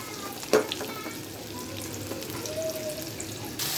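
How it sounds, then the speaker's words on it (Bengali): Chapila fish frying in a generous amount of oil in a small wok, a steady soft sizzle with a sharp crackle near the start and clinking stirring sounds, close by. "তাই মাছ অল্প ভাজতেছি।"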